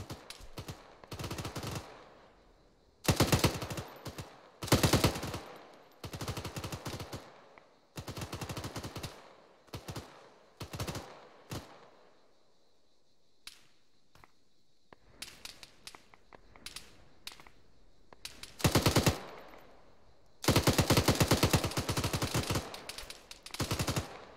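Heavy weapons in a video game fire in loud, rapid bursts of machine-gun shots, separated by short pauses and quieter crackling stretches, with no one talking.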